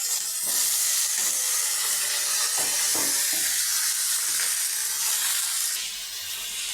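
Potato and eggplant hit a pan of oil already tempered with fenugreek seeds and dried red chili, giving a loud, sustained sizzling hiss with a few sharp crackles, easing off slightly toward the end.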